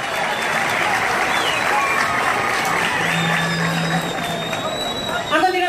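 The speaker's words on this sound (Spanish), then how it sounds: "Fuertes los aplausos para recibir a nuestra preciosa también candidata al Miss Ecuador" Steady, loud crowd applause fills a pageant hall in Naranjal, Ecuador, as Miss Ecuador candidates are welcomed, dense clapping mixed with cheers and crowd babble throughout, swelling slightly at the end.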